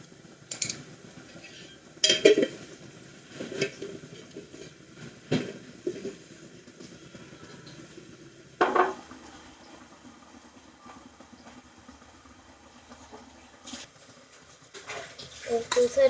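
A spoon scrapes and clinks against a pan while spicy sweet corn masala is stirred, producing a few scattered metallic knocks under a person talking.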